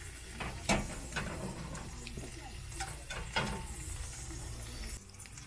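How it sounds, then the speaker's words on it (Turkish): Sea bass fillets sizzle in a hot pan in a camper-van kitchen, a steady crackling hiss with a few sharper pops, while voices talk quietly nearby. "Evet şimdi cızırdamaya başladı."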